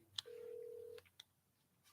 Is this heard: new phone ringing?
yes